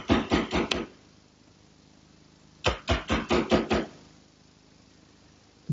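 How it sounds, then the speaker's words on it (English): Sharp chisel squaring the bottom edges of mortises in wood for a plant stand, struck in two quick bursts of about five close, sharp knocks each, separated by a pause. "using a sharp chisel, I'm going to square up the bottom edge of all the mortises"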